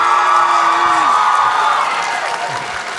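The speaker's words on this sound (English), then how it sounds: "a huge round of applause for these amazing individuals" A large convention crowd at a Demon Slayer panel applauds and cheers for the guests, a dense, loud wash of clapping with whoops and shouts that stays strong throughout.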